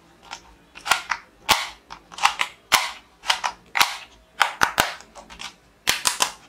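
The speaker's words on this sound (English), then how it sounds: "Colorful, realistic, awesome toy pistol." A realistic toy cap pistol fires a string of sharp, loud snapping cracks, single and in quick pairs, up close with nothing else heard.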